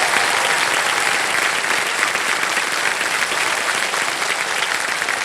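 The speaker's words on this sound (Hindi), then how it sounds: "जोरदार तालियां बज जाए इनके लिए" Studio audience on a Hindi quiz show bursts into sustained, dense applause for a contestant in the Fastest Finger First round, a steady loud wash of clapping with no talk over it.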